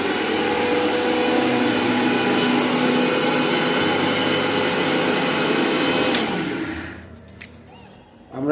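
Prestige mixer grinder running at speed 1, a loud close whirring motor with a steady buzzing grind that cuts off sharply near the end, leaving brief quiet and a faint rattle.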